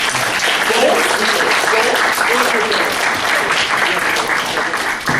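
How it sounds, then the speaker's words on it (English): An open mic audience gives a sustained, loud round of dense applause for a performer, steady throughout with possible voices mixed in. "Let's give him another round of applause."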